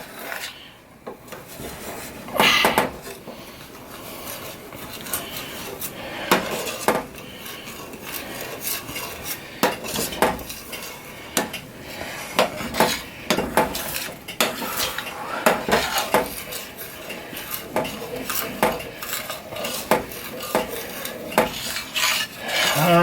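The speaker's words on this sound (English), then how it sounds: "I'm just using the bottom of the spoon to kind of roll things around" A spoon works gravy around the bottom of a pan in a steady run of scraping, rubbing strokes with clinks against the metal, close and fairly loud, with no talking.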